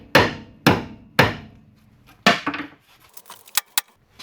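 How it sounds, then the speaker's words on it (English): Sharp hammer blows knock out the lower ball joints on a 2007-2014 Cadillac Escalade: three loud metallic strikes in steady rhythm, then a fourth followed by lighter, scattered taps and clinks, close up with no talking. "These lower ball joints I can just hammer out."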